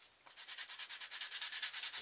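Rapid back-and-forth sanding strokes on a DIY ferro rod neck sheath give a close, rhythmic scratchy rasp, about eight strokes per second, steady and alone.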